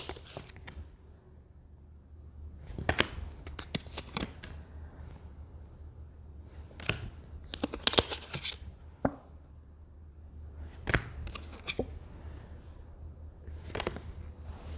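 Tarot cards from a new Ostara deck are shuffled by hand in quiet bursts of crisp riffling and flicking, separated by near-silent pauses, close and fairly soft.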